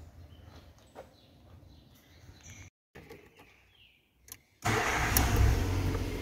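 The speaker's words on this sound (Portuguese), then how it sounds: "Ligando o carro aqui agora." A Ford Ka with faulty spark plug cables and two bad cylinders, its engine cranking after a few clicks and then catching into a loud, close, steady running rumble.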